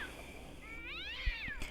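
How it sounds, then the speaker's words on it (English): Angry cat meows and a drawn-out yowl ring out as background ambience in the Neverwinter Nights video game, a faint wavering cry over low game noise with a couple of soft thuds. "With the angry pussycat sounds, it's just a background noise in the game."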